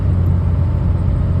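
A 2004 Ford F350 diesel pickup cruising with the transmission locked in sixth gear gives a steady, close low engine drone and road rumble from inside the cab, with no talk.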